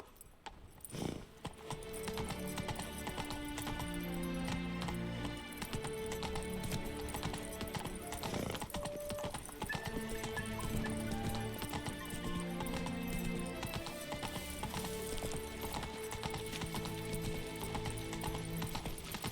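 Roach, Geralt's horse in The Witcher 3, gallops with a steady rapid clip-clop of hooves that lasts throughout, heard beneath continuous in-game orchestral music, and no one speaks.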